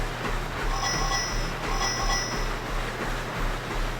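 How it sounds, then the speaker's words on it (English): Bicycle bell ringing in the cycling video game Zwift during a group race, a few bright metallic rings over a steady pulsing background hum, with no talking. "Let's give everyone a bell here."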